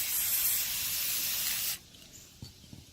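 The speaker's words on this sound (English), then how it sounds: "I'm going to use this metallic finish spray paint, and I'm going to spray paint these legs like this." A long hiss of metallic-finish aerosol spray paint on table legs for under two seconds, then it stops, followed by a couple of faint knocks.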